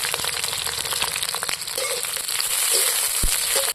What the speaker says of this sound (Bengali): দেখুন আমার পিঁয়াজ মরিচ তেজপাতাগুলো ভাজা হয়ে গেছে